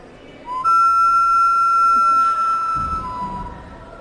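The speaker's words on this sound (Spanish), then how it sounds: "Botella antropomorfa con cámara reverberante. Silba como hombre silba." A whistling anthropomorphic ceramic bottle with a reverberating chamber holds one steady, piercing high pitch for a few seconds, rising slightly in loudness before fading, with a low rumble entering near the end.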